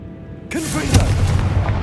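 A Confringo blasting spell explodes in Hogwarts Legacy, hitting abruptly after a quiet moment as a loud boom that rolls into a sustained crackling rumble with faint whooshing tones layered over it.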